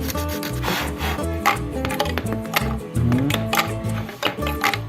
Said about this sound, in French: il va falloir poncer encore un petit peu